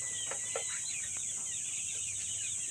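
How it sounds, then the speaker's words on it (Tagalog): Backyard chickens, raised from chicks, cluck in short scattered calls over a constant high-pitched insect-like hiss, with several birds sounding at moderate distance. "Dati sisiw lang mga to, ngayon manok na."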